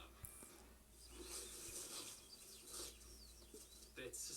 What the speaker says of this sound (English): That's the sound of cows enjoying Viscount